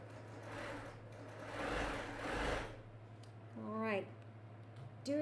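A domestic sewing machine runs in bursts, stitching a sunflower quilt block, its motor whirring close and steady for a few seconds before stopping, with a short voice and brief squeaky sounds following.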